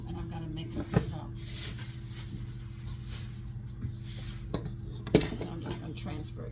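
Potato salad with cilantro being mixed in an overfull bowl: soft clinks and scrapes of a utensil against the bowl, with a couple of sharper knocks over a low background hum.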